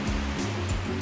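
Ocean waves wash onto a beach in early February, a steady rushing surf roar with swelling surges, heard alone and close.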